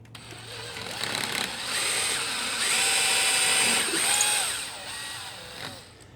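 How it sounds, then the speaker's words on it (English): A power drill whines steadily at close range, its pitch rising and falling as it bores through wood, with no talking. "I'm gonna drill out the hole."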